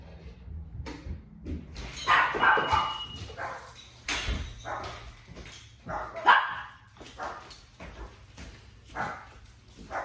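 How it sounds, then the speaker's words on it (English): A household dog barks and yips in scattered bursts in a home kitchen as kids return home, with clattering and thumps in between, moderately distant. "my kids just come back and disturbed my dog"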